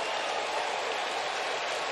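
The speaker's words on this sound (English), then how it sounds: "And even the Mariner fans around the stadium standing up and clapping." Mariners fans rise and clap across the stadium during an Astros–Mariners baseball game. The crowd applause is distant, sustained and even, forming a smooth wash of noise with no clear single claps.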